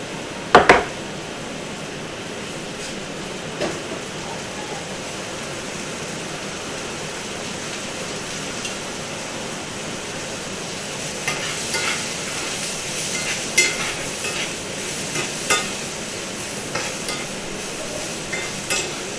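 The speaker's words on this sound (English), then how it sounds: "I'm just going to saute that with a little salt." Green onion, white and green parts, sautéing with salt in a hot, smoking pan, a steady close sizzle lasting throughout with a few faint clinks and stirring taps.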